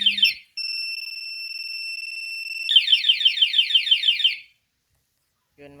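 A two-way alarm on a Suzuki Raider 150 Reborn motorcycle sounds loud and close, first a steady two-tone electronic tone and then a rapid warbling siren sweep, before cutting off.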